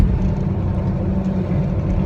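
Cabin interior of a moving car loaded with passengers, a steady low road-and-engine rumble filling the space at an even level, with no one speaking.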